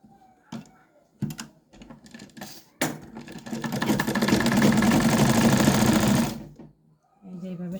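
A sewing machine stitches the side seam of a garment in short bursts, then runs a longer steady whirring stretch before stopping, with someone speaking between the runs.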